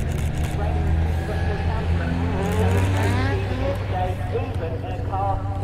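Race cars pass at the Lydden Legends motorsport festival, their engines droning loudly and steadily with rising and falling revving tones as they go by, while people talk nearby.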